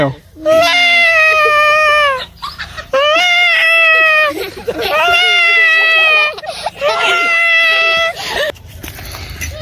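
A person imitates a cat meowing, giving four long, loud, drawn-out wailing meows in a row with brief gaps between them, close to the listener.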